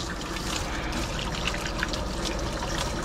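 Water is rinsed over a severely underweight husky during grooming, a continuous close splashing trickle that runs without a break.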